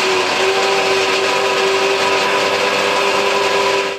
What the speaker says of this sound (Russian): Здесь сваривают и укладывают полиэтиленовые трубы